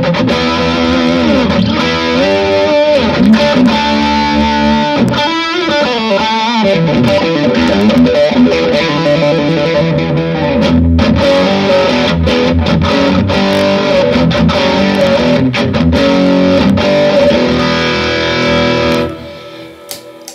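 Electric guitar through Red Snapper and Tube Zone overdrive pedals plays sustained chords and riffs, loud and thick with distortion, ringing out and cutting off near the end.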